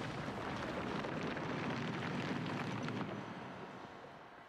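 Deep roaring blast of the Bombarda spell in Hogwarts Legacy, a broad sustained rumble that holds steady for several seconds and then fades away.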